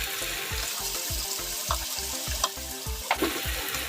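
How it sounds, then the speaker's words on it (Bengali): Onions, ginger and garlic dropped into hot oil for a dhaba-style egg tadka produce a steady sizzle over a regular low pulsing, with a few sharp clinks. "আর তেলটা গরম হয়ে গেছে, এবার আমি পেঁয়াজগুলো দিয়ে দেবো। আর আদাগুলো দিয়ে দেবো,"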